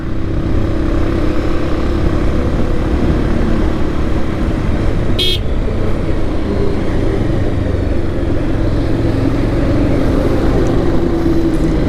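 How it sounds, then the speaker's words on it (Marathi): Wind roaring through a lowered car window while driving on a highway past trucks and cars: a loud, constant rushing noise throughout, broken once midway by a brief horn toot. "वाईंड ब्लास्ट बघा किती होत आहे"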